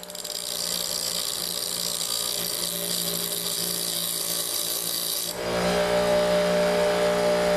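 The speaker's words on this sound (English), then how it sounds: "to the bench grinder" A bench grinder grinds a metal part from an old mini bike, giving a continuous harsh abrasive whir that shifts to a brighter, heavier grinding tone partway through, close and loud with no talking.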